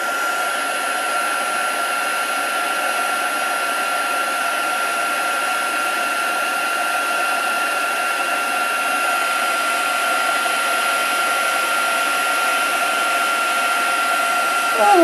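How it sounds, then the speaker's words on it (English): A heat tool blasts steadily over embossing powder on a craft project, melting it; a loud, continuous fan whir with a constant pitch runs unbroken for the whole stretch, with no talk. "I cannot watch embossing powder melt often enough."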